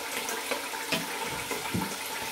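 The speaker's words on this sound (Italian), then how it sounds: "controllo l'acqua del rubinetto" Water runs from a tap into a basin nearby, a steady splashing stream with a few brief gurgles. No one speaks.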